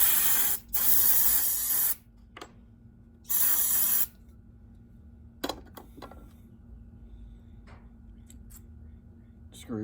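Brake parts cleaner sprayed onto carburetor screws from a Homelite EZ chainsaw: two loud, close hissing bursts of about a second each, followed by small clinks and handling noises over a low hum.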